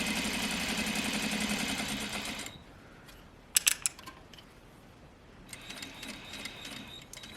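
Sewing machine stitching a double welt pocket at stitch lengths between 1.5 and 2.5 with a backstitch, a steady loud whirring run that stops abruptly, followed by quieter clicks and brief bursts of renewed stitching.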